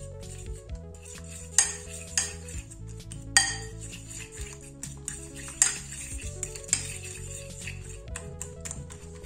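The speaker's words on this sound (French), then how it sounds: "je vais bien écraser la mie avec l'œuf" Bread crumb is mashed with egg in a bowl, with repeated clinks and taps of a utensil against the bowl in an irregular rhythm over soft background music.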